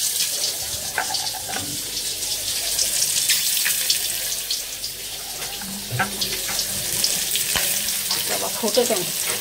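Boiled chitoi pitha frying in hot oil in a home kitchen, a steady close sizzle with crackling pops and occasional clinks of a utensil.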